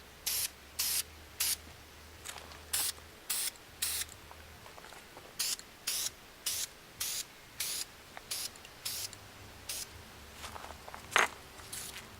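Short, crisp bursts from a spray bottle misting a plexiglass window on a Jeep, repeated in a steady rhythm of roughly a dozen puffs with quiet gaps between, close and fairly loud, with no talking.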